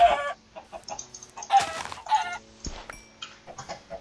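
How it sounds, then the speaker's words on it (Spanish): A chicken clucks in short, repeated bursts amid other small electronic game sounds in a Minecraft-style game, fairly close and clear. "Uy, un pollito."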